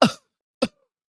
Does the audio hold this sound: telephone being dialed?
no